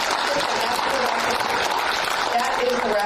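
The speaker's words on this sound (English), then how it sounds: "give Cole and Jason a big round of applause for the 10 core commitments" Audience applause for two presenters at a Spotlight17 event in Kansas City, a dense steady clatter of clapping that holds at an even level for the whole stretch, with some voices mixed in.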